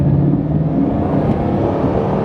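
Bugatti Chiron quad-turbo engine (1,500 horsepower) pulling at light throttle, a steady low rumble and whir close by with no sharp rev peaks, continuous throughout.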